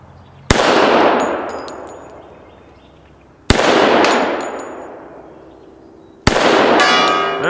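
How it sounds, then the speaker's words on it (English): Rifle bullets strike a steel gong three times at a steady pace, each hit giving a sharp loud clang that rings out and fades slowly before the next. "I'm determined to hit the gong at least once on this magazine."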